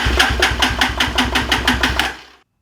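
A motorcycle engine cranked on the starter with the throttle wide open during a compression test, a steady rhythmic chug of about ten even strokes, loud and close, then a sudden stop.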